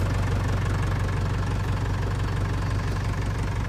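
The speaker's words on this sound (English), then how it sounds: "I'm going to go ahead and raise the bed up here now." A Cobey dump truck's engine runs steadily while its Cherokee hoist raises the bed, a loud, continuous low rumble with a knocking idle character and no talking.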